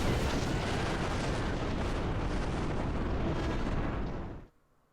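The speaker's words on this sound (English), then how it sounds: "They make that sound like an explosion." An explosion-like sound effect in the visual novel Muv-Luv Alternative, a loud, sustained roaring rumble that holds steady for over four seconds before abruptly cutting off.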